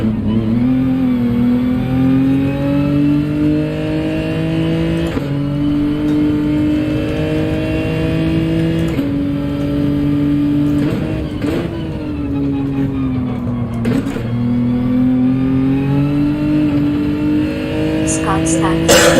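Gran Turismo 7 race car engine holding a steady, loud drone that shifts pitch several times through gear changes, continuous throughout with faint talk mixed beneath.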